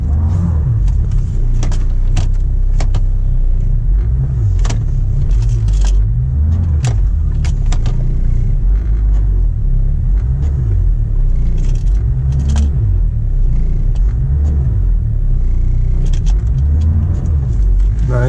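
Mercedes W210 with an OM606 diesel engine pulling forward out of a hole, a loud steady low diesel rumble heard from inside the car with scattered clicks and rattles, no talking.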